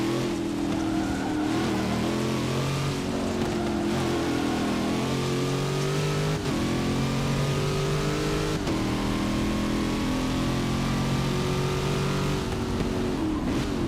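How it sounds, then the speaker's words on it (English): A car engine in a driving simulator game revs and shifts continuously, rising whines climbing and dropping in repeated cycles, close and steady throughout with brief gear-change breaks. "You could hear the car."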